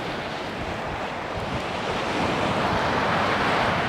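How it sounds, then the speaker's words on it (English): Rough sea waves break on the shingle of Chesil Beach in Dorset, a steady, loud wash of surf and spray mixed with gusting wind noise, swelling slightly stronger toward the end, with no talk. "The waves are pretty nasty now."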